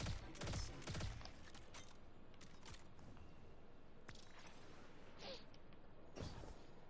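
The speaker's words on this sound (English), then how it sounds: "What if I just start shooting?" Scattered gunfire in a video game, a few loud bursts early and near the end over a low, busy background with clicks and rattles.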